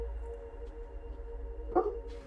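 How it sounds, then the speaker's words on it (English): A pet dog gives a brief bark or two in the room, fairly faint and mid-distance, over steady background music from a spooky computer game. "You guys can hear my dog?"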